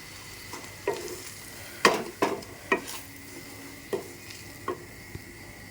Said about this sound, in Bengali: সুজিটা এখানে আস্তে আস্তে ভাজা হোক